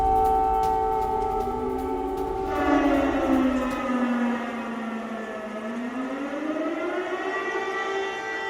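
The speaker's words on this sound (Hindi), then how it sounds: "कीव में एयर रेड सायरन, ये देखिए किस तरीके से पूरे कीव में" An air raid siren wails across Kyiv, a loud civil defense tone that holds, then slides down and rises again in a long, wavering sweep, alone without voices.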